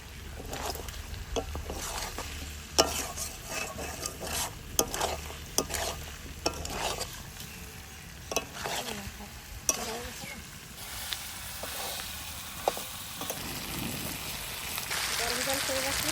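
Country chicken and potatoes sautéing in a pot give off a steady sizzle with stirring scrapes and clinks. A lid knocks now and then, and a voice speaks briefly.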